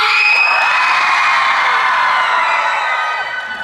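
An audience at the Desucon 2009 anime convention shouts and cheers loudly to vote for a fighting-contest winner, a dense, sustained roar of yelling voices that tapers slightly at the end.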